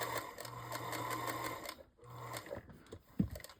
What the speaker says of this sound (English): I am going to sew on this line right here